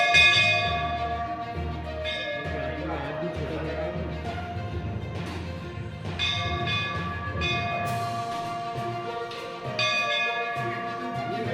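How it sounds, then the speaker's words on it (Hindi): A temple bell in a Bhopal shrine, rung without being touched, rings repeatedly with sustained metallic tones over a steady rumbling background, while voices talk throughout. "बिना छुए हम घंटी बजा सकते हैं"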